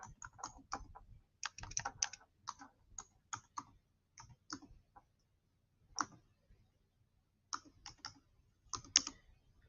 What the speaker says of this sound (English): why are you typing in?